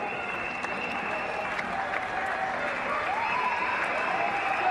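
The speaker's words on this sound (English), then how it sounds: "Getting a big round of applause from his teammates, as you'd expect, and all the supporters" Teammates and supporters at a cricket ground applaud Sachin Tendulkar after his dismissal for 203, a steady distant wash of crowd clapping with faint tonal chatter and whistles mixed in.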